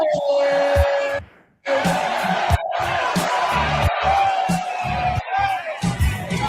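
A large crowd at a 2009 MMA event cheers and roars loudly and continuously, with whoops and shouts rising through the din and a brief dip before the noise surges back.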